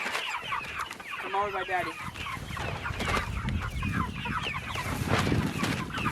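Backyard chickens cluck repeatedly, fairly close, with overlapping calls and a brief rising squawk, while someone speaks softly over them in an outdoor pen.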